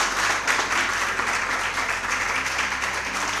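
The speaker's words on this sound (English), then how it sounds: "A round of applause for our contestants again." Steady applause from a crowd at a junior high school contest, broad and continuous for a few seconds, with a low hum underneath and no clear voices.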